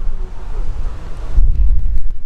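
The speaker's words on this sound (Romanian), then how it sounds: "bate vântul foarte tare" Heavy wind buffets the microphone with low rumbling gusts in a garden, loud and constant, briefly easing before surging again.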